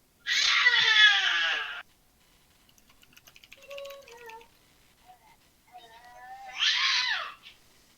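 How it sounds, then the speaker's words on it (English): An excited cat gives two loud, drawn-out meows, one at the start and one near the end, with quieter small sounds between them in an otherwise quiet room. "That's an excited kitty past her bedtime."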